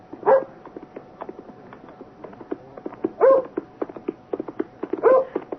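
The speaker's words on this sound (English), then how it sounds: "First the dog" A dog barks in a 1977 radio drama sound effect on a lonely country road, with sharp, repeated barks every couple of seconds over a steady patter of hoofbeats.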